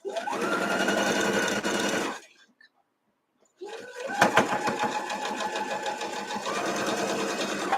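An inexpensive Walmart sewing machine runs steady bursts of stitching across quilt block seams, pausing briefly mid-run before resuming loud and close, with a speaking voice over part of it.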